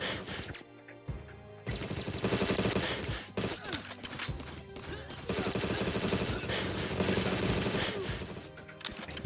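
Dense, sustained gunfire from a video game shooter, rapid automatic bursts overlapping with loud shots, continuing almost without pause for about nine seconds after a brief quiet gap near the start.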